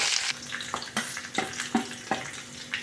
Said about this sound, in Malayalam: കടുക് പൊട്ടി. ഇനി ഉലുവ ഇട്ടു. പിന്നെ മുളകും പച്ചമുളകും കറിവേപ്പിലയും ഇട്ടു.